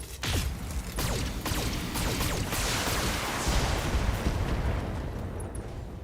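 A precision artillery barrage strikes the torso of a BattleMech in the game BattleTech: a dense run of loud booming impacts and mechanical rumble, sustained and near throughout, with no talk.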